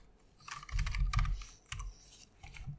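Fingers tap a computer keyboard in a quick cluster of close, crisp keystrokes, followed by a couple of shorter bursts of clicks with brief gaps between them.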